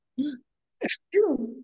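A single sharp sneeze bursts out between two short stretches of voiced sound, heard close by indoors during a conversation about medication doses.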